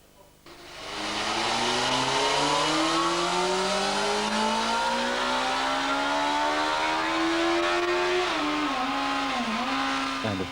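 A powerful motorcycle engine roars up through the gears, its pitch climbing steadily for several seconds and staying loud and close before briefly dipping near the end.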